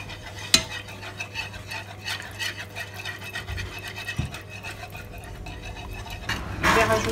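Lasagne sauce with milk being stirred steadily in a pan until it thickens, a continuous soft scraping with occasional sharper knocks of the utensil, close and moderately quiet.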